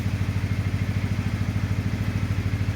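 A quad ATV engine idles steadily and close by, giving a low, even, rapidly pulsing chug with a continuous rough mechanical rattle and no change in speed.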